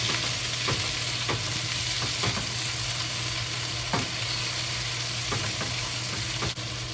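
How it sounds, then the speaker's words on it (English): Pork and egg with black pepper frying slowly in a pan, a steady close sizzle with a low hum beneath and occasional scraping stirs of a utensil. "Just slowly fry."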